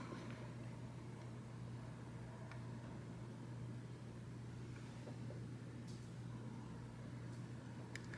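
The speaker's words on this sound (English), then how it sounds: "Okay, the compressor has kicked on, and let's see where we end up." An air conditioner compressor runs with a steady low hum and constant even whir, unbroken and moderately quiet throughout, with a few faint ticks on top.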